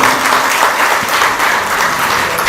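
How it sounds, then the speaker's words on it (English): A loud, full burst of applause from a semiconductor conference audience, many hands clapping steadily and close for a few seconds without pause. "So, ladies and gentlemen, let's give you a round of applause."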